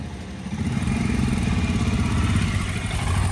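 A motorcycle engine running steadily on a test ride after a service, a close, continuous throbbing drone with a slight clatter and no talking.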